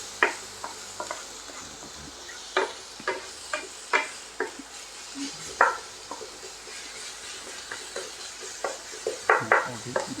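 Green and dried chilies with tomato fry in a pan, a steady sizzle broken by repeated sharp spatula scrapes and taps at an uneven rhythm, close up and with no voices.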